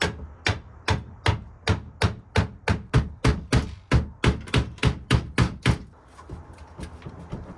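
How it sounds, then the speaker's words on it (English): A hammer pounds aluminum RV shell onto nails, about sixteen sharp, close, evenly spaced blows in a steady rhythm before falling quiet. "I'm just gonna try to put this on the nails and pound it in there"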